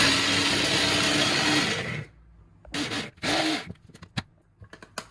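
A kitchen blender grinds a tomato and mozzarella preparation in a loud continuous whir for about two seconds, then stops; two short bursts follow, trailed by scattered clatter.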